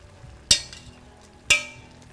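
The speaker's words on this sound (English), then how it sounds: "I'm going to keep giving my little pot a stir because we're going to make sure we get good even heat all around" A spoon stirring a pot on a stovetop during home cooking: two sharp, close metallic clinks about a second apart, each fading quickly over a faint background hiss.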